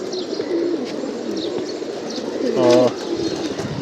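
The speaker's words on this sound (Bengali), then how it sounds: "এই যে সব কবুতর, আজকে আর কোনো কবুতর উঠে নেই" Several pigeons coo in a loft around midday, soft repeated calls with a louder, clearer coo near the end, alongside faint chirps.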